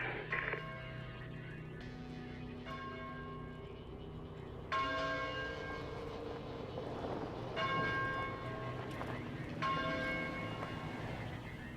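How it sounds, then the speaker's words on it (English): Several church bell strikes ring out at spaced intervals over a steady low hum, each tone lingering and fading, with no talking. "Is that a church bell?"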